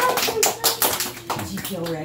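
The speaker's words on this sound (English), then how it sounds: "Clap." A group of children claps their hands at a school piano show, giving a few quick, close claps mixed with taps while kids talk and vocalize over and around them.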